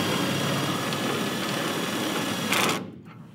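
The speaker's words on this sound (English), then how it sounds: "Let's see if the stabilizer jacks reach the ground now." Electric stabilizer jacks on an Airstream travel trailer whir steadily as they extend, a close mechanical motor drone that rises briefly and then cuts off near the end, with no talking.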